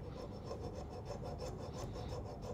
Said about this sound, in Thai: เลื่อยทางฝังสิพี่เอ๋บอก